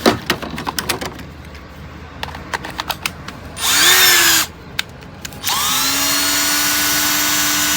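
A cordless drill set to maximum torque, heard in two sustained whirring bursts of a few seconds each, the second one longer, with scattered clicks and handling knocks between them and no talk.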